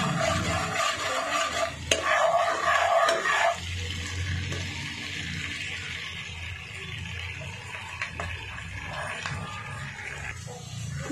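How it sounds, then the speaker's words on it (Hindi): Garlic sizzling in butter in a pan while being stirred for pav bhaji, a steady frying hiss with scraping stir strokes, louder in the first few seconds and then settling into a softer continuous sizzle. "पहले ये लहसुन डाल दिया है, अभी हम थोड़ा लहसुन को हल्का सा ये लाल करेंगे"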